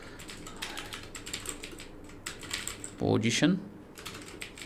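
Computer keyboard typing, apparently while a Java linked list program is being written, with a quick run of clicky keystrokes in steady clusters as someone speaks Hindi over them, ending in a louder burst.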